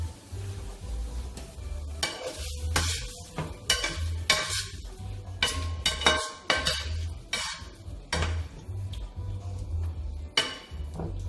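Plantain fries in oil that has been turned down lower, a soft close sizzle under repeated clinks and scrapes of a utensil against the pan, coming in irregular bursts.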